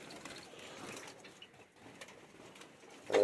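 A honey-colored pigeon coos softly inside an enclosure among other birds, low murmuring calls with light rustling and patter, faint and close, ending in a brief louder note.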